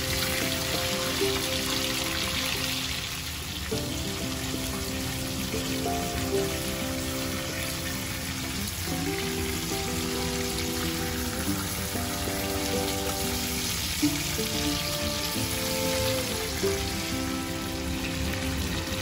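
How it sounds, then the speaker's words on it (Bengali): Chicken leg pieces frying in hot oil give a steady, dense sizzle like rain on a surface, running continuously at close range with a faint tonal background under it. "এই তেলের মধ্যে আমি চিকেনের লেগ পিসগুলো দিয়ে দেব। আমি এগুলো ভালো করে ভেজে নিই।"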